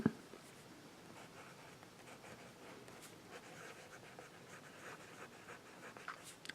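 Broad-nib fountain pen, nearly out of ink, writing on paper: faint, continuous soft scratching with small strokes, close by and quiet.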